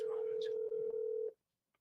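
A telephone ringback tone on an outgoing call, one steady held tone lasting just over a second with faint background voices beneath it, then silence.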